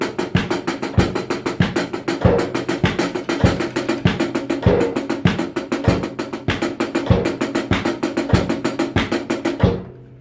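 A drum kit plays a steady sixteenth-note groove that opens on a crash cymbal, with driving evenly spaced hits, kick and snare accents and bright cymbal wash, closely miked, ending abruptly after about ten seconds.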